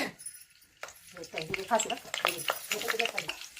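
Mustard seeds and curry leaves hit hot oil for a kolhapuri misal tempering, starting after a near-silent moment and building into close, busy crackling and sputtering with scattered pops while someone speaks briefly.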